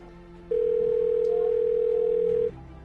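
A steady telephone dial tone hums for about two seconds while a phone call is being placed, clear and alone with only faint room noise around it.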